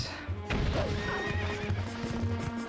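A horse whinnies over steady clip-clopping hooves in The Legend of Zelda: Twilight Princess HD, with a busy game soundscape playing underneath.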